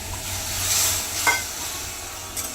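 Tomatoes cooking in a pan with a splash of water for a paneer dish: a low, steady simmering hiss, fairly quiet, broken by one soft stir of the spoon near the middle.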